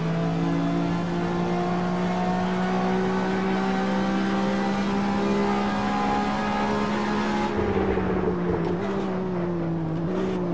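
A racing car engine in the video game Assetto Corsa drones steadily and loudly from outside the car, holding a constant pitch before dipping and wavering near the end.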